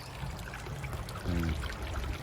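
A creek flows in a steady, close, broadband rush of running water with a brief low gurgle midway and no voices.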